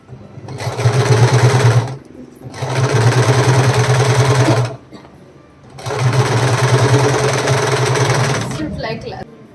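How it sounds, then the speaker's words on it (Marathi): An electric sewing machine stitches a saree, running in three long loud buzzing bursts of even, rapid needle strokes with short pauses between. "इथं पहिल्यांदा आपण शिलाई करून घेऊया"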